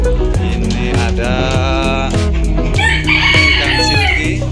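Ornamental roosters of show breeds such as Jomani and lemon pile Brahma crow loudly and repeatedly, one call overlapping another in a busy coop, with clucks mixed in.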